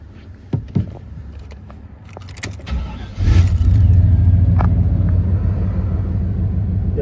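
A 1995 Chevrolet conversion van engine cranks briefly after a couple of clunks, catches and settles into a loud, steady idling rumble close by.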